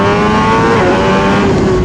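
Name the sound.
Suzuki GSX-R 1000 motorcycle accelerating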